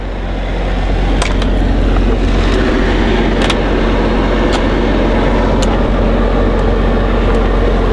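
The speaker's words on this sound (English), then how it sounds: "Now the generator's running right now. You can probably hear it now that I'm close to it" A 10K Onan generator runs on a new 2018 Newmar Dutch Star 4369 diesel-pusher RV, giving a steady, close, continuous engine drone with a few faint clicks and knocks over it and no talking.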